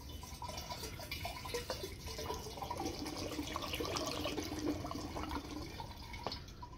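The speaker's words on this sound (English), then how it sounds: "we'll go ahead and we'll just pour this in here also" Liquid is poured into a homemade moonshine still made from baby formula, a close, steady splashing and trickling with watery gurgles that continues throughout, and no voices are heard.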